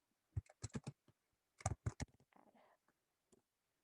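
Typing on a computer keyboard during a beginner Python coding session: quick clustered key clicks in two short bursts, close and crisp, followed by a softer rattle and a final lone tap, with no talking.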